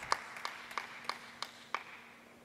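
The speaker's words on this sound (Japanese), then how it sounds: "さあ大きな拍手が沸き起こりました。" Audience at a Japanese T.League table tennis match in Ota City General Gymnasium applauding, heard as a sparse, faint run of about six evenly spaced claps against a quiet hall hum.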